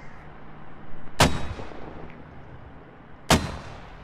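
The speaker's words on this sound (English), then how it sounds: "that's why I'm gonna mortar the bollocks off it before you just push in" Two loud, sharp mortar blasts in the video game Squad, about two seconds apart, each a sudden crack followed by a short rumbling decay, with no talking.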